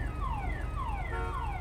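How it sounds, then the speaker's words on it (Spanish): A repeating electronic motorbike horn in the video game Shadow Punk warbles in falling, siren-like sweeps, several in quick succession over steady low background noise. "¿Por qué le puse esa bocina?"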